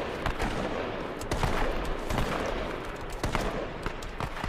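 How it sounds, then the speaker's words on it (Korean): Rapid bursts of distant gunfire crackle repeatedly over a steady background rumble, with no one speaking, in the battle royale video game H1Z1: King of the Kill. "여기 총소리 나는 것 같은데요 앞에."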